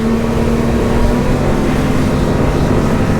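Loud, steady engine drone from a Quarken 27 motorboat accelerating, with constant wind and water rush, holding a strong even hum throughout.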